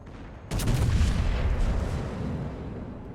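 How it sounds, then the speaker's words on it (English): A thunderous armor-piercing salvo erupts from the battleship Massachusetts guns in World of Warships, a single heavy boom that rolls on as a sustained rumbling roar. "unfortunately we're gonna do another AP salvo"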